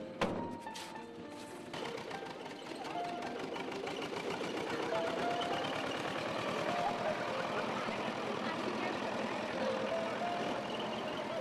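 A farm tractor carrying weeding workers out to cotton fields drones steadily under a rapid mechanical clatter, continuous and fairly close, after a brief burst of higher noise at the start.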